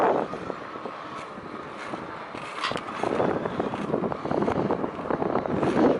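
Wind buffeting a Sony DSC HX80 camera microphone during a bike ride on a windy day, a steady rumbling roar with gusty low thumps that grow stronger toward the end.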